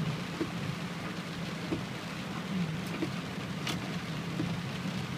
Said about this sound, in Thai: ฝนตกมาก